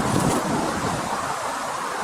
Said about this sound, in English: It's way too windy today.